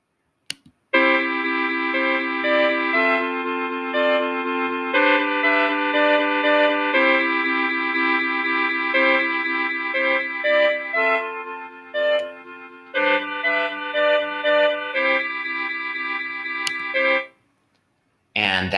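Melody and harmony from Chrome Music Lab's Song Maker, bright synthetic tones stacked in steady chordal blocks that shift every beat or two, loud and continuous with no voices.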